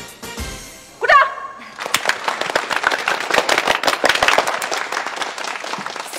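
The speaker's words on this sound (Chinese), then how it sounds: "鼓掌。" Crowd applause and clapping at a dating-show matchmaking event, starting after a brief whoosh-like effect and filling the rest of the clip with dense, steady clapping of many hands.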